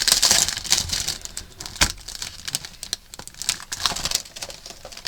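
Birthday wrapping paper is dug through and handled, with bursts of crinkling and rustling and a few sharp crackles at close range, irregular throughout.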